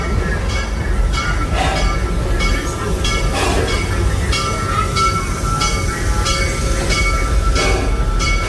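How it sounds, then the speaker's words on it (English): The Serengeti Express train at Busch Gardens, Florida rolls into Stanleyville station, loud and close, with a continuous rumble, rhythmic clicking of wheels over track joints and faint metallic squeals. "As we are entering the Stanleyville train station, please remember to remain seated until the train comes to an absolute and complete stop"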